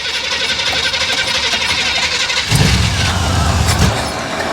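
A 1971 Chevrolet Nova SS with a 4-speed cranks over with a steady, rapid starter whir, then catches and fires into a loud, rumbling idle close by.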